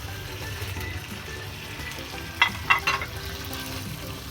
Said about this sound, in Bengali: চিংড়ি মাছটা দিয়ে একটু নাড়াচাড়া করে একটু কষিয়ে নিতে হবে